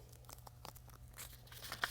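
Quiet, close crinkly tearing and crunching as a plastic sheet edge is lightly peeled up during concrete overlay work, a soft continuous rustle with a sharper crackle near the end and no talking.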